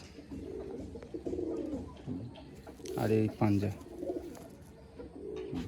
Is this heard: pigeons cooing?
yes